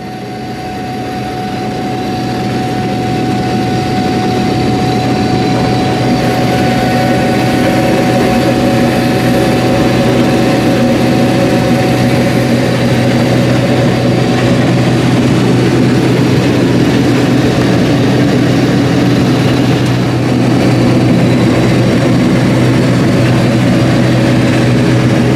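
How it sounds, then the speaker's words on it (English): A Case International 1680 axial-flow combine harvests soybeans with a loud, steady, droning engine hum and whirring machinery, rising at the start and then holding constant throughout, heard close up with no talk. "Now let's take a minute to see and hear what it's like to run this combine."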